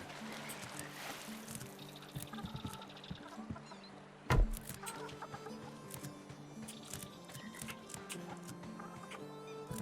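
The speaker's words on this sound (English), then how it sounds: "Also, there's a chicken in here now." A chicken clucks inside a house in the video game Runescape Dragonwilds, soft scattered clucks amid a busy ambient game soundscape with a sharp thump partway through.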